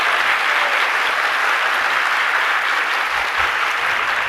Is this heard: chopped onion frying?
no